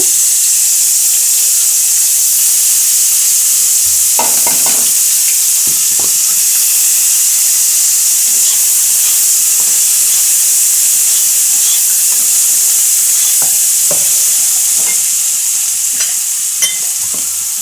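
Onion fries in hot oil with a bay leaf, a loud, constant sizzle and steamy hiss over which a utensil stirs and knocks against the pan at uneven moments.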